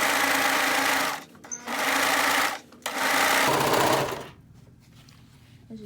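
A sewing machine stitches green fabric for a scrunchie, running loud and close in three bursts with brief pauses before stopping.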